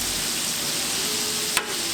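Mac and cheese smash burgers sizzle steadily on a hot surface as they finish cooking, a dense close frying hiss with a brief clink near the end.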